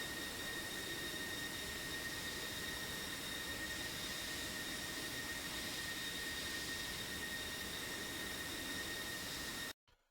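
Jet aircraft engines roar in a steady, loud, continuous whine and rush as planes taxi toward a runway in a flight combat video game, cutting off abruptly at the end, with no talking.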